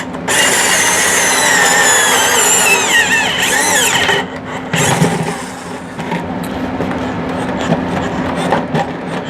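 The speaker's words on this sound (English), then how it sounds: "you're going to want to put the point in the forward position on the drill until it punctures" A power drill driving a pointed bit forward until it punctures, then reversing to cut a clean hole while building a DIY hydroponic herb garden; a loud, steady mechanical whir with shifting pitch, rattling and grinding throughout, no talk.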